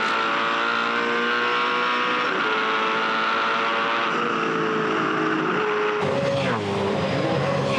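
V8 Supercars racing engines at full throttle on the Adelaide street circuit in 2007, a loud sustained high-revving roar with rising pitch as the cars accelerate, then a sharper shift as another car passes close by.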